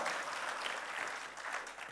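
A church congregation claps for God during an Indonesian sermon, a steady dense patter of many hands at moderate distance, filling the room without talk.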